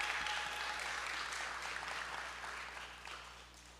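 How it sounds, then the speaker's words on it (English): An audience at a public hearing on an energy plan claps in a sustained round of applause, dense and steady, slowly tapering off over a few seconds. "So another round of applause."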